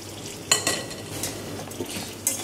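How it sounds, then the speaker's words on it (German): Blanched spinach tipped into a pan of glassy, softened onions, giving a soft sizzle with scraping and a few sharp clinks of utensils as it is stirred. "Das wird unser blanchierter Spinat zugegeben."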